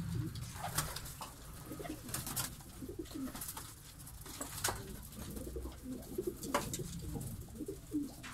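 Ornamental breeding pigeons coo steadily inside a coop in Bursa, a dense, overlapping chorus of soft low coos and occasional wing flutters heard up close and continuously.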